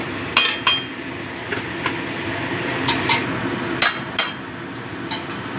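A lid goes onto a cooking pan holding Bhetki fish head and bones with cauliflower, giving several sharp metallic clinks and taps spread over a few seconds against a low kitchen background.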